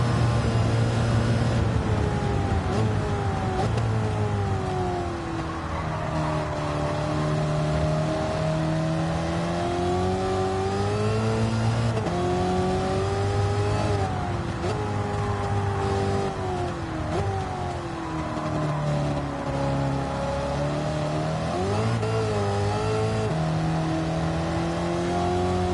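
A TransAm race car in a racing video game accelerates hard through the gears, its engine note repeatedly rising and dropping with each shift, loud and continuous for over twenty seconds with no talk.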